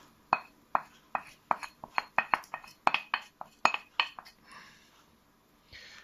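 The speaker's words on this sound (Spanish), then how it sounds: "Batido el huevo, lo ponemos en la sartén y lo mezclamos." A utensil mixing beaten egg in a frying pan, heard as a steady series of about fifteen sharp metallic clinks and scrapes close by, ending with softer wet scraping and no voices.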